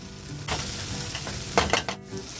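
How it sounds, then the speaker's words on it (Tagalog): Onions sautéing in a pan with a steady close sizzle, broken by a few louder scraping stir strokes near the middle and a sharp clatter toward the end. "let's saute our onions"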